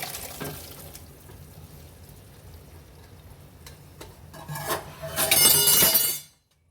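Boiled chickpeas with their water are poured into a pan, a splashing rush that builds near the end before stopping abruptly.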